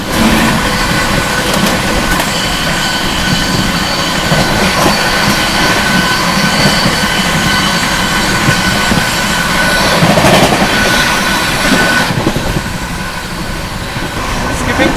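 The New Delhi–Gaya Mahabodhi Express (12398) runs at high speed while the Barauni Gondia Express passes the other way, giving a loud, continuous rumble of wheels and rails with clattering and a surge of noise as the trains cross.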